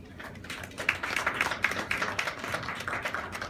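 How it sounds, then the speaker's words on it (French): Scattered, light clapping from a small audience at a press conference, a brief patter of hand claps, fairly faint and uneven, with no talk over it. "Je vous demande d'applaudir M."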